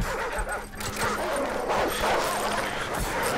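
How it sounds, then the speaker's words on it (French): A wild dog in the shooter Call of Duty 4: Modern Warfare gives several close yipping barks and whimpers in a quick, uneven burst, layered over in-game background noise. "Laisse tomber, c'est un chien sauvage."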